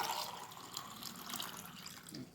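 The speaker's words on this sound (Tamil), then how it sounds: "இன்னொரு 1/2 டம்ளர் தண்ணி இப்படி ஊற்றிக்கலாம்." Water is poured from a tumbler into a bowl of wheat flour batter for adai, a soft, close trickling and splashing that runs on continuously with no talk over it.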